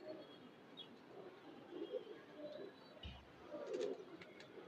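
Soft pigeon coos rise and fall a few times against a steady background hum, fairly quiet and close.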